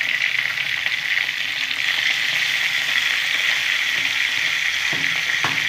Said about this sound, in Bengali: আমি একটু নুন আর হলুদ দিয়ে ভেজে নেবো